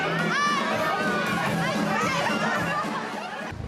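Fans cheer and call out for two famous filmmakers arriving at the Cannes Film Festival, a dense crowd noise of shouts and excited chatter that holds steady and close throughout.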